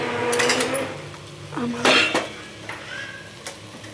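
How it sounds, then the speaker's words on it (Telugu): Cooked rice tossed into a hot tempering in a pan for broccoli mixed fried rice, with close metallic clinks and scrapes of a spoon against the pan in a few short bursts. "అన్నంని ఇట్లా లూజ్గా చేసుకుంటూ మనం ఈ యొక్క తాలింపులో వేసేసుకోవాలి"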